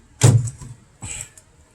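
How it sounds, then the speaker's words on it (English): The rear door of a 1994 Chevrolet Caprice Classic LS with an LT4 engine unlatches with a sharp metallic click, followed by a softer second clack as it swings open, close and alone. "Open the rear door."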